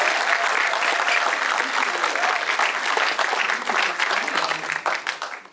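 A film festival Q&A audience bursts into sustained, dense clapping to welcome director Julia Stiles, holding steady and then tapering off at the end.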